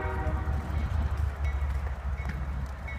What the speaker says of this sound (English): The sound of the train goes choo-choo.